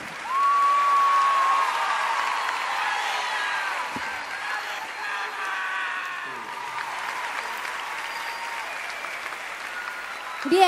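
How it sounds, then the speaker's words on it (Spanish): Loud, sustained applause from a large crowd at a live concert in an arena, a continuous wash of clapping with faint cheering mixed in and brief voices over it. "Y aplauso fuerte para mí"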